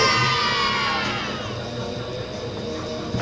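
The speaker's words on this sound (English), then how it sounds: "Crowd cheering there for Cyrus Archon" A wrestling event crowd cheers and whoops loudly, starting at a peak and slowly easing into a sustained roar for wrestler Cyrus Archon.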